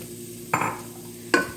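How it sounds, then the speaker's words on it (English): A spoon stirs finely diced onion in butter and avocado oil in a soup pot, giving two short scraping swishes over a low, steady background hum. "I'm going to stir this around just for a few minutes so the onion can soften"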